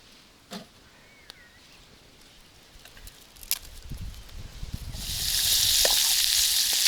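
Pork fat (salo) begins frying in a pan outdoors, a few faint clicks and rustles giving way to a loud, steady hissing sizzle that swells and holds for the final two seconds.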